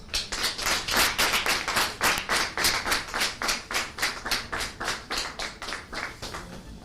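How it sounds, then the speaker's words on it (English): A Children's Day event audience claps in a steady, rhythmic unison beat, loud and close, repeating evenly with no talk over it. "I want to hear a resounding round of applause"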